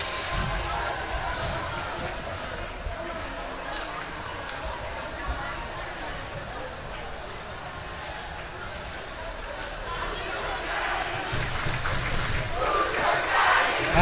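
A sustained roar of spectators fills an ice hockey rink after a high school goal in a West Milford Pequannock versus Lakeland game, steady and dense throughout and swelling near the end, with a commentator talking over it.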